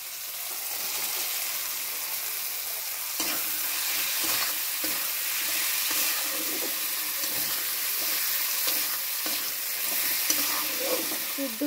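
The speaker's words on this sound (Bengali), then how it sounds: "ভেজে রাখা আলুগুলো এবার কড়াইতে দিয়ে দেবো।" Fried potatoes tossed into a hot black wok, sizzling steadily with repeated stirring and scraping strokes throughout, close and fairly loud with no voices.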